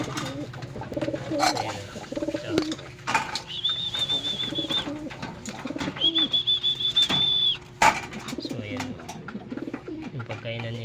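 Pigeons coo repeatedly in a loft, with soft rhythmic calls layered over a steady background of bird noise and a couple of sustained high whistles in between.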